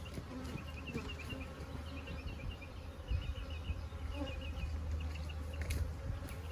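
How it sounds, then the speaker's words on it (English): Honeybees from an aggressive colony with a new queen swarm around an open beehive during an inspection, a dense steady drone of many insects close by, with no talking. "these bees around me are not from this hive"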